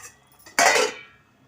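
A plate is set over a pan of simmering egg tomato curry, giving one clear metallic clink and clatter that rings briefly and fades, close by with no talk.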